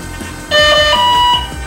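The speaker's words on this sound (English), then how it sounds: "we can follow along with the beeps here" A steady electronic tone from an Airboss Elite electronic speed controller entering setup mode, shifting in pitch partway through, clear and close with no voices, then cutting off near the end.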